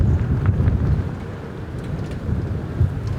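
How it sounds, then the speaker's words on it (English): Strong wind in Arctic Alaska buffets the microphone in heavy, low, rumbling gusts that rise and fall, loud and close throughout. "The wind actually just twisted the camera cage in my hand."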